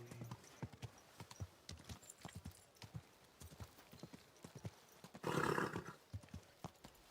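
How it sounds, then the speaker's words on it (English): Horse hooves clop along at a walking pace in Kingdom Come: Deliverance II, with a brief whinny partway through, fairly faint and steady. "Walk fast, my horse"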